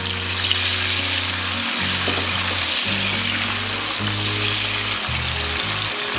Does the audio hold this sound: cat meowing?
no